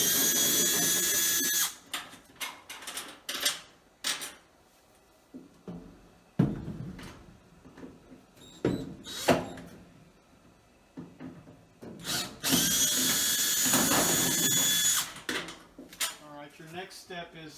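Power drill backing screws out of a clothes dryer's top panel in two loud whirring bursts at the start and near the end, with metallic clinks and handling noise between, close up.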